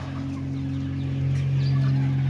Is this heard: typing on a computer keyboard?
no